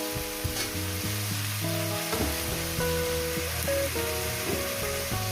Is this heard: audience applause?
no